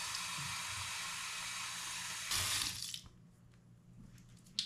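Tap water filling an old glass soda bottle during cleaning, a steady loud hissing gush that rises as the bottle fills, then cuts off into quiet, with faint small clinks afterward.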